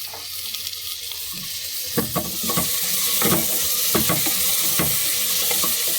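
Onion and tomato frying in a pan for methi pulao give a steady, loud, close sizzle, with scraping stirring strokes that start partway through. There is no talking.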